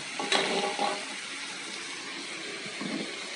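Potato and eggplant pieces being stirred in a pan of cooking chicken rica, with a scrape and clatter near the start, then a steady low sizzle of frying continuing alone.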